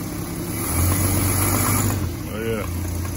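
1986 Dodge D150 truck with a new carburetor, engine idling in gear with the brake held, a steady low rumble that swells briefly, with voices over it.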